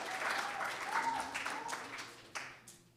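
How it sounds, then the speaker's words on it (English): A church congregation at a Unitarian Universalist Sunday service breaks into warm applause, many hands clapping steadily before it thins out and trails off with a few last claps. "We can clap. That's good."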